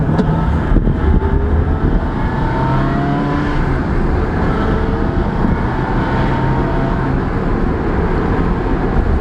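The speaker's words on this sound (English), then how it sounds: "We are going for a ride in Rob's Ferrari" Inside a Ferrari on a road drive, the engine runs steadily with a loud, continuous drone and tyre and road noise, the pitch gently rising and falling as it cruises.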